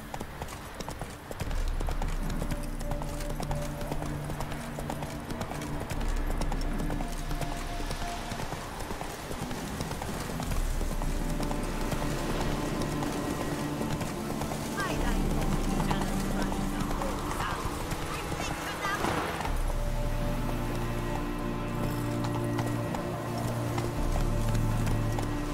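Galloping hooves of a horse in The Witcher 3 video game, a steady clip-clop running throughout with occasional whinnies, game music and a voice speaking over it.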